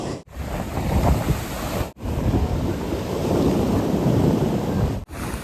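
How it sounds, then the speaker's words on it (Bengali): Sea waves roll onto Shankarpur beach, a loud, continuous roar of surf with wind rumble. Brief dips break the sound a couple of times. "শঙ্করপুরের ঢেউটা দেখুন এবার কীরকম"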